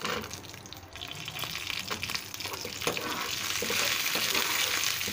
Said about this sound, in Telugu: స్టవ్ను మీడియం ఫ్లేమ్లో పెట్టి వేయించుకోవాలండి.